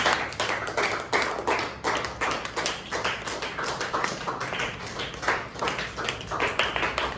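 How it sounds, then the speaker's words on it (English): Students in a classroom give a round of applause, many hands clapping unevenly at close range for several seconds. "Finally, once again, give them a big round of applause."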